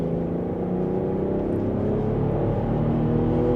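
A car with a stage 1 tune pulls hard in 4th gear from about 2,500 RPM, its engine droning steadily and climbing in pitch as it accelerates, heard from inside the cabin with no talking.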